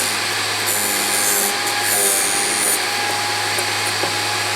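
A Vevor model 13B drill grinder runs with a steady motor hum while it sharpens a drill bit, with intermittent brighter scraping bursts as the bit meets the wheel, close and fairly loud.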